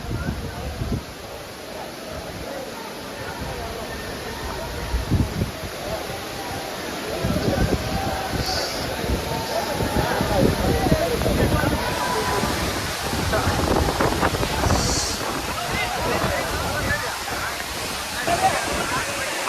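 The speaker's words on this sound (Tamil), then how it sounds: "ஆகாய நீர்வீழ்ச்சி ஆறு எப்படி சாரல் பயங்கரமாக அடிக்குது பாருங்க" Spray and falling water pound steadily at Agaya Gangai waterfall in the Kolli Hills, a broad continuous roar close by that swells louder midway and holds through to the end, with no voices over it.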